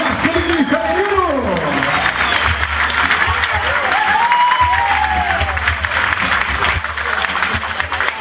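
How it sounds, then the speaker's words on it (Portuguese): Spectators along the course at a beach triathlon in Caiobá clap and cheer for passing elite men's and women's athletes. The applause is steady crowd noise, and a loudspeaker announcer talks over it in places. "passando aqui, recebendo os aplausos da categoria elite masculino e feminino"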